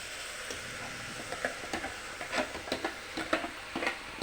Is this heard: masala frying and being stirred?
yes